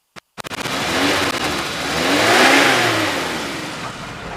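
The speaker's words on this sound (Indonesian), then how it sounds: "sekarang kita coba geber, kita cek untuk asap knalpot" A 2001 Suzuki Carry pickup truck engine starts with quick sputters, then revs loudly, the pitch rising to a peak before easing back; close and unaccompanied by voices.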